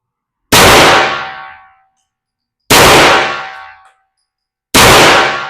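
Three loud, sharp shots from a Glock 44 firing Federal Punch rounds at steel targets, each a crisp crack with a ringing decay, spaced about two seconds apart with silence between.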